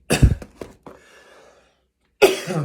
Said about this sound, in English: Man, I picked up this cough.